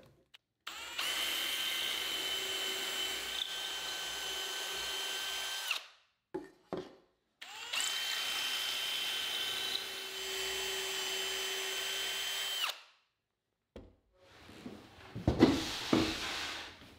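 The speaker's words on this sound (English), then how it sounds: "I'll use the same 3/16 inch drill bit to drill through the hole and through the top of the cabinet" A power drill with a 3/16 inch bit bores through a wooden cabinet top in two long steady whining runs, each about five seconds, with brief handling clatter between them and after, close and clear.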